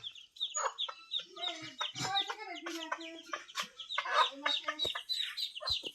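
Native Bangladeshi chickens and chicks clucking and cheeping close by in a farmyard, a busy overlapping stream of short calls with occasional louder squawks, and no talk over them.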